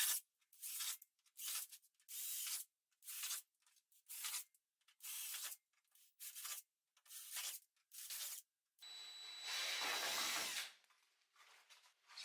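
A power drill with a 15/64 bit boring a series of holes, about a dozen short, close whirring bursts in quick succession, then one longer, louder grinding run, with quiet gaps and no speech.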